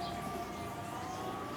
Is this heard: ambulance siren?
yes